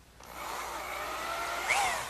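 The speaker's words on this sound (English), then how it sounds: "Now, I'll pre-drill some holes in the end" A power drill pre-drills screw holes into the end of a wooden column for a candle stand in a woodworking shop, giving one steady, close whirring run of about two seconds that swells slightly near the end.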